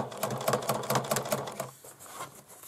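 A sewing machine stitches slowly over existing topstitching on the fabric of a handmade pencil bag, a steady rapid chatter of needle strokes for about a second and a half before it stops and the room goes quiet.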